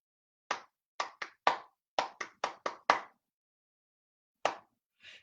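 Close, crisp hand claps in a rhythm exercise: a run of nine sharp claps in an uneven pattern, a pause, then one more clap and a soft tap, with no talking.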